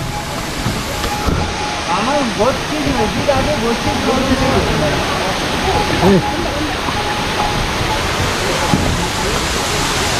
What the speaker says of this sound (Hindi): अभी एक और झरना वाटरफॉल यहाँ पर आपको दिखाते हैं